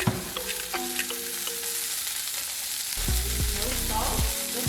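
A burger patty fries in a pan over medium-high heat with butter, giving a continuous close sizzle and crackle, with scattered clinks and scraping sounds from the cookware.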